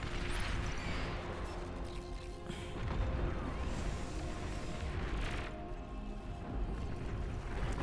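Units trading weapon fire in the real-time strategy game Beyond All Reason, a dense, continuous wash of booms, blasts and crackling shots with no clear pauses, steady in loudness throughout.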